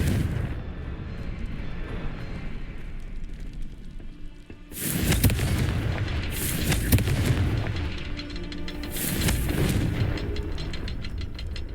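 Confringo explosion spells in Hogwarts Legacy, deep booming blasts with crackling debris and a rumbling tail, loud and repeated about three times over a continuous game background.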